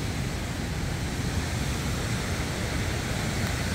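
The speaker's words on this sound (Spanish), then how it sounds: "para que ustedes disfrutaran de la maravilla de esa cascada" A waterfall roars steadily as a dense, even rush of falling water, constant and moderately loud for the whole stretch with no voices.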